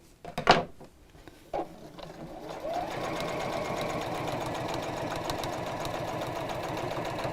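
A sewing machine stitches fabric for a caddy in one steady, continuous whirring run after a couple of short clicks and knocks of handling at the start, close and fairly loud throughout.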